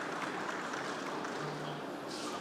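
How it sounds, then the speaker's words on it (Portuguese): An audience at a ports and airports conference applauds a port authority director, a steady wash of clapping from a large room, fairly faint and distant, with no talk over it. "Receba os aplausos de todos."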